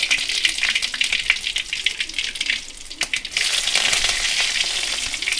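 Mustard seeds and curry leaves frying in hot oil for an egg thoran, making a loud, bright sizzle with sharp crackles and pops. It dips briefly midway, then surges back even stronger and continues.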